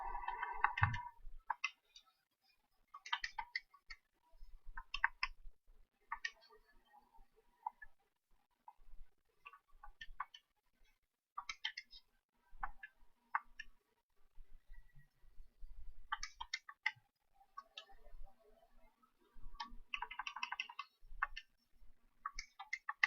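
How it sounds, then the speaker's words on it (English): Fingers tapping the keys of a calculator, a series of light, quiet clicks and ticks in short irregular bursts, close by with no one speaking. "I'll type that in exactly as you see that in my calculator."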